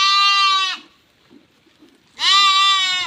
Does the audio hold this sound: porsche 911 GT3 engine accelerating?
no